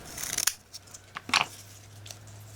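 Scissors trim the tails of a double-tailed ribbon bow made with a Zutter Bow-It-All, two crisp close snips about a second apart with light handling noise between, quiet and without talking.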